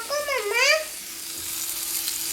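Fish fries on a low gas flame until crispy, a quiet, even sizzle that runs throughout after a short vocal sound at the start.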